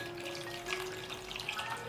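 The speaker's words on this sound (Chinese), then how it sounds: "然后再加入过滤出来的香菇水" Strained mushroom soaking water pours into a clay pot of fried radish balls and vegetables, a steady close splashing wash with a constant background hum throughout.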